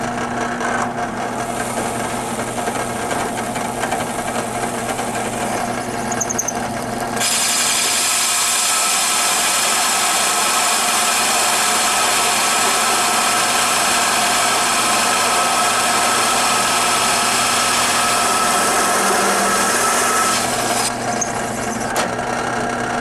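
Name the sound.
power drill drilling holes in arcade cabinet top piece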